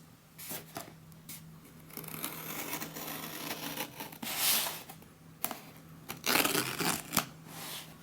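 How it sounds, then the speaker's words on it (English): Tape on a small holiday parcel box being cut and slit open, with close scratchy rasping and tearing bursts and rustling of cardboard and packing. "I'm still gonna have to cut the tape."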